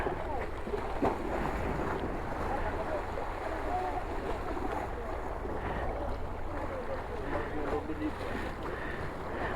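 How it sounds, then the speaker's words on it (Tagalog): Choppy sea water slaps and washes around a moving boat on a long coastal trip, a dense, steady rumble of waves and wind buffeting the microphone, with faint voices underneath. "Ay, maalon."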